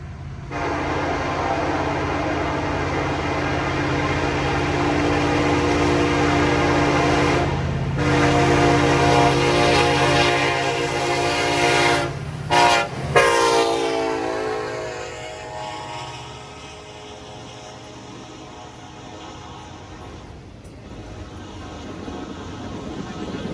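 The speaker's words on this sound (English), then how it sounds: "we see KCS 4191 West led by two KCS SD70 Aces" A Kansas City Southern freight train led by two SD70ACe locomotives rumbles past, its horn sounding long and loud, breaking off briefly and then fading as the train rolls by.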